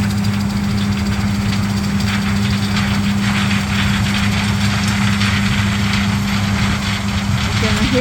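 A combine harvester runs close by as corn passes through, a loud, steady low engine drone with a constant mechanical rattle and grind layered over it for the whole stretch.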